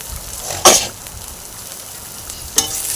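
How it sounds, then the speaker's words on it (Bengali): Onion, garlic and ginger fry in a pan under a low continuous sizzle, with two sharp spatula scrapes against the pan, one early and one near the end. "তো পেঁয়াজ, রসুন, আদাগুলো আমি ভেজে নিলাম।"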